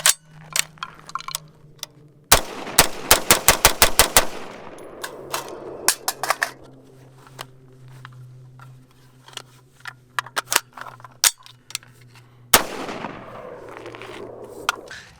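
A Foxtrot Mike FM-15 Gen 2 side-charging AR rifle fires single shots and a rapid string of about ten sharp, loud cracks, then scattered shots with quieter mechanical clicks and handling noise between them.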